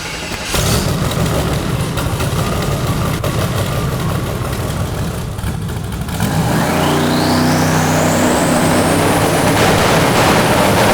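A 1500 hp turbocharged LSX-powered drag Mustang engine running loud and close, a rough throaty idle that rises into a climbing, whining rev midway through, held at high intensity to the end without talk.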